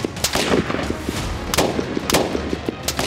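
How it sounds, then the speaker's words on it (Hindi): Rapid gunshots crack inside a house, caught on a CCTV camera, several sharp reports in quick irregular bursts over a background hum, with no voices. "अंदर गोलियां चलने की आवाज"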